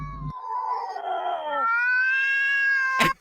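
A cat's drawn-out, wavering meow rises into a loud sustained caterwaul, close and alone, cut off by a sharp burst at the end.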